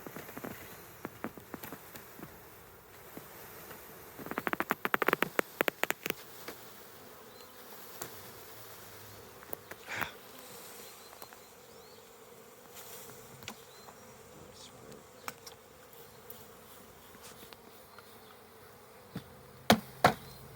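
Package honey bees buzzing in a steady low hum while being dumped into a hive, with scattered sharp knocks and taps, louder bursts around the middle and near the end.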